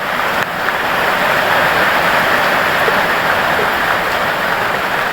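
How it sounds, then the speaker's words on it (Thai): Dense, steady roar of heavy rain pouring without a break at a roadside shelter, loud and close, with no voices throughout. "โอ้ยฝนตกหนักจริงๆตอนนี้"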